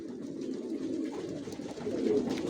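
Original racing pigeons kept as resting breeding stock coo in a low, continuous burbling chorus, close and steady.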